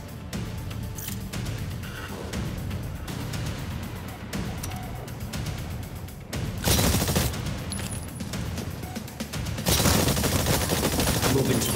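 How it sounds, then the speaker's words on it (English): Rapid gunfire in the Exoprimal video game, shooting at targets on a training range: continuous loud bursts of automatic fire with no talk, growing heavier and louder toward the end. "Fire at the target."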